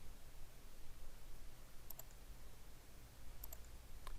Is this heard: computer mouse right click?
yes